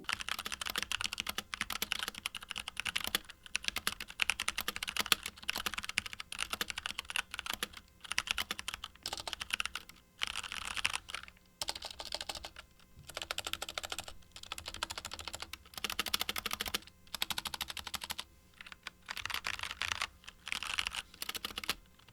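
Rapid clicking of tactile enthusiast mechanical keyboard switches on a Hexgears Nova gaming keyboard, typed in steady bursts with short pauses, close and crisp with no other sounds.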